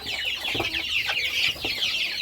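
Soft clucking from several small bantam chickens close by, steady chattering over a constant bright hiss of background noise.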